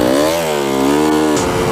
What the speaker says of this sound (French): La moto a 27 ans et un coup de kick ça part quoi.